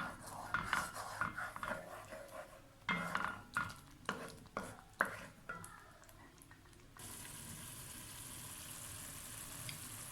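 Spice masala for Lahori chana roasts and is stirred in a pan, with repeated scraping strokes and soft sizzling in an uneven rhythm, giving way to a steady, quieter hiss toward the end.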